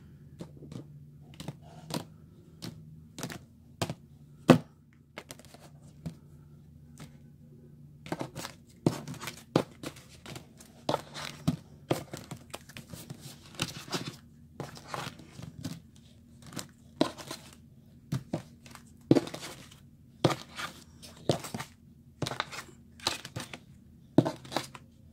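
Tarot cards being cut and shuffled by hand, a long series of crisp, sharp card snaps and slaps at irregular intervals over a low steady hum, close and fairly quiet.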